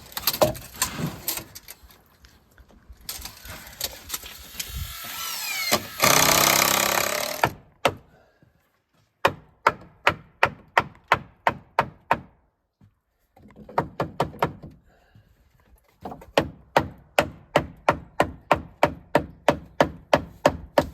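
Pallet boards being trimmed for a cabin platform: an early stretch of rough cutting noise, then long runs of sharp, rhythmic knocks and thwacks on wood, loud and close with short pauses between bursts.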